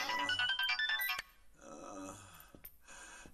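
A telephone ringtone plays a bright electronic melody in quick bursts, then pauses and resumes more softly, fairly faint and unaccompanied by talk.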